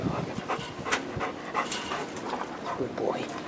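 A puppy pants in quick, steady breaths close by, set against a busy, noisy outdoor background with faint voices.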